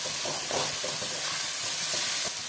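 Tomatoes and salt fry in a spice masala for a chicken curry, giving a dense, steady sizzle close by. Soft, irregular stirring scrapes sit beneath the hiss, and no one speaks.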